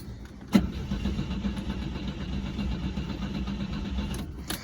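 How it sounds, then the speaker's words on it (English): A 1964 Volvo 122S Amazon wagon's B20 engine with twin SU carburetors catches with a sharp start and settles into a steady, rumbling idle, loud and close, with no talking. "Okay, so it runs, and I'm going to go ahead and say it's a pretty healthy motor"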